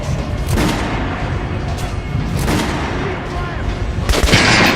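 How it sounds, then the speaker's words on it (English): Gunshots hit an armored training dummy on the shooting range in the video game Metro Last Light Redux: about four loud, sharp reports spaced irregularly over a few seconds, each with a short rumbling tail. "Now shoot the armored dummy."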